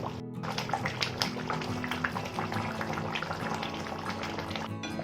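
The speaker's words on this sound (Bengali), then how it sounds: "মাছটাকে একটু মিশিয়ে নেবো ঝোলের মধ্যে" Pieces of katla fish stirred gently through a thick kalia gravy simmering on low heat: soft bubbling and wet, sloshing movements throughout, close and moderately quiet, with no talking.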